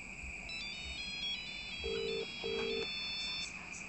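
A mobile phone ringtone melody plays in repeating tonal bursts, moderately distant, over a steady background hum, with no talking.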